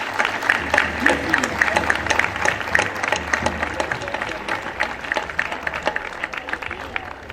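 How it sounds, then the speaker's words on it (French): An audience applauds the volunteers at the opening ceremony of an international folklore festival. The clapping is steady, mid-distance and moderately loud, with a murmur of crowd and voices mixed in throughout. "On peut les applaudir."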